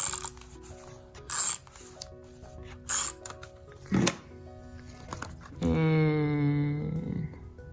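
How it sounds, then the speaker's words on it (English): A tape runner pressed onto journal pages gives a few crisp clicks and ratcheting snaps up close, then a longer whirring, rasping pull near the end, with no voices. "tape runner."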